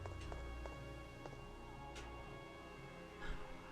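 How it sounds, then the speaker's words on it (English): A waterfall sound effect from the video game Phantasy Star Online: a steady, rushing wash of water running the whole time, with faint tonal background and a few soft clicks. "There is waterfall sound effect."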